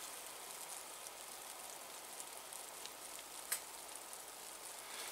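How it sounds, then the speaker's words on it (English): Light snow pattering on a tarp hoop shelter in still, windless air, a soft continuous fine hiss with one brief sharper tick, no voices. "I can hear the snowflakes hitting the tarp"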